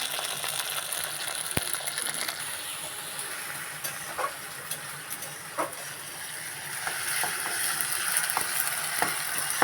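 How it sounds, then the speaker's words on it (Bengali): Chopped tomato fries with onions in a pan, giving a continuous soft sizzle broken by the clicks and scrapes of stirring, moderately loud and close, with no talking. "পেঁয়াজের সাথে ভালো করে ভেজে নেব"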